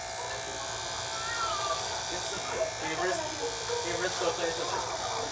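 Electric clippers cut a person's hair at home, giving a continuous, fairly close buzz through the whole stretch while several people exclaim and talk over it.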